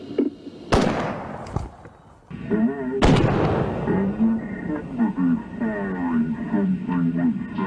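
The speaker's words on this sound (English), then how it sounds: "Firing something which sounds like an automatic rifle." An automatic rifle firing during the Hungerford shooting: a few sharp, loud cracks early on, then a voice talks over a rumbling background.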